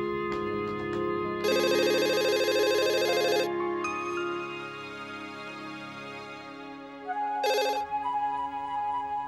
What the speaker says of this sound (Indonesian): Alhamdulillah, Satria, akhirnya kamu telepon juga.